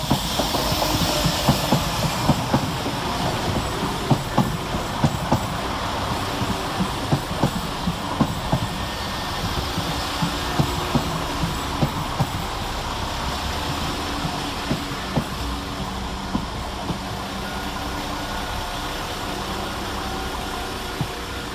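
A West Midlands Railway Class 172 diesel multiple unit pair arrives at Cradley Heath station, a steady rumbling engine drone with rhythmic wheel clicks over rail joints and a faint hiss, sustained and fairly close throughout.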